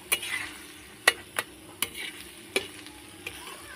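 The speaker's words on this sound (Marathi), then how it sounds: "इथे तव्यावर माझी भाजी, मटर भाजी बनवते मी तव्यावरती" A pea curry cooks on a flat iron griddle, with a faint frying sizzle broken by several sharp scrapes and taps of a spatula as it is stirred, close and unaccompanied by talk.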